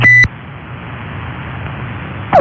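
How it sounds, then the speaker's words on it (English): A CB radio roger beep sounds as a loud tonal burst at the start, followed by a steady hiss of static and another short electronic chirp at the end. "Since you already took the Roger Beep echo thing"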